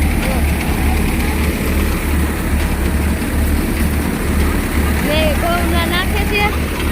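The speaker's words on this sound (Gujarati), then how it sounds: "અહીંયા ટ્રેક્ટર ચાલુ છે" Farm tractor running steadily during wheat threshing, a constant low engine drone throughout with machinery clatter, and people talking faintly over it.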